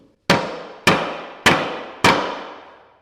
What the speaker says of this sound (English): This is a baby mallet.